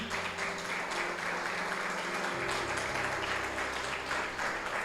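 A church congregation applauds steadily at a distance, a soft continuous wash of clapping with a low hum underneath.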